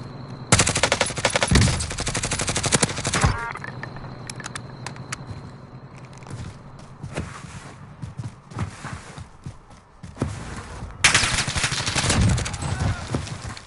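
Gunfire from the Call of Duty: Modern Warfare Warzone video game on PS4, with dense rapid bursts near the start and again near the end and quieter scattered shots and game noise in between.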